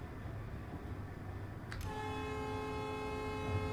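A train horn in the Train Life railway simulator blares in at the midpoint, a sustained loud tonal blast held to the end over a low rumbling engine.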